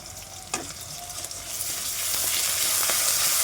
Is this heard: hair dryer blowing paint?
no